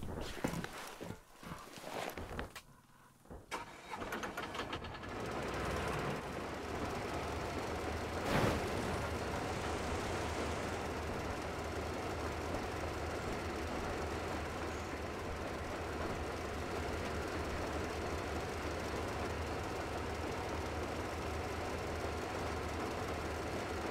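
A train in the video game Metro Exodus rumbles along steadily for most of the stretch, a continuous low mechanical drone after a few scattered knocks and thumps at the start.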